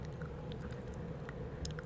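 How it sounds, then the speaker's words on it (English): Soft, close gum chewing recorded for ASMR, quiet moist squishing and smacking over a steady low background hiss, with no talking. "for the gum chewing."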